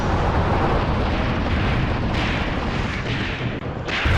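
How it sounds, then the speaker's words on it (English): Continuous rumbling artillery shelling in the war strategy game Graviteam Tactics: Mius Front, a dense, loud, steady roar of distant explosions without a break. "even my positions are starting to get artilleried as well"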